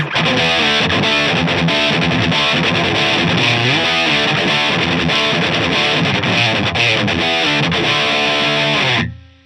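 A thick, heavily distorted electric guitar tone from a Line 6 Helix, dialed in George Lynch style, chugs and rings steadily for several seconds, loud and close, then cuts off abruptly at the end.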